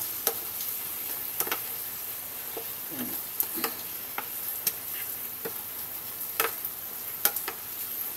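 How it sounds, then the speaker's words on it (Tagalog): Leftover smoked fish (tinapa) with other ingredients stirred and sizzling in a washed frying pan, a steady fry hiss under scattered clinks and scrapes of the utensil against the pan, no talk. "Haluin natin ng maayos para lumasa yung ibang ingredients."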